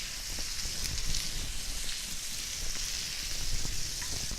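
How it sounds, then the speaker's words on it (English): Minced garlic frying in a pan alongside steak, a continuous dense sizzle and crackle close up that stays at an even loudness throughout. "And now we're going to add our garlic."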